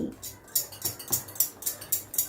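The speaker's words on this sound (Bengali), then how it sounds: "দিয়ে আবারও আমি সব কিছু ভালো করে মিশিয়ে নিচ্ছি" A semolina and egg batter with baking soda and a milk-water mix being stirred in a bowl: a quick, regular run of light utensil clinks against the bowl, quiet and close.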